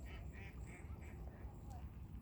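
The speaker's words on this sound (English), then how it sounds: "Oh, there's the geese. I knew I heard them." Geese call in a series of repeated nasal honks at a moderate distance on a foggy morning walk in nature, faint over a low steady outdoor rumble.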